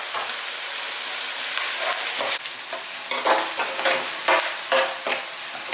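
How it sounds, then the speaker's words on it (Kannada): Sliced capsicum frying in a pan for chilli chicken, a steady close sizzle with bursts of stirring and scraping that grow choppier in the second half, no voices. "ಕ್ಯಾಪ್ಸಿಕಮ್ ನೀರೊಡ್ಡಿರೋದು ಮತ್ತೆ ಜಾಸ್ತಿ ಫ್ರೈ ಮಾಡ್ಕೊಂಡ್ಬಿಡ್ತೇವೆ"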